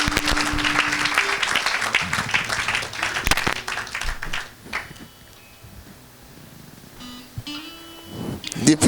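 Congregation at a church service applauding Jesus Christ, loud sustained clapping that fades after about four seconds, with voices and a few claps continuing over quieter room sound.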